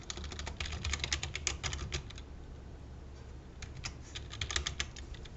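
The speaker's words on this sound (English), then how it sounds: "I will type out the subpart A for standard 1" Fingers type on a computer keyboard in quick bursts of close, crisp key clicks, pausing briefly in the middle before another rapid run of tapping; no one speaks.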